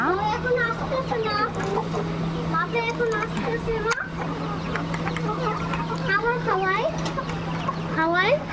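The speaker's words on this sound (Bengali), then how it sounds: "এই যে আরো এখানে 2টা মোরগ আছে আর 2টা মুরগি আছে" Desi chickens, two roosters and two hens, cluck steadily in a rooftop cage, with busy overlapping calls close by over a constant low hum and occasional voices.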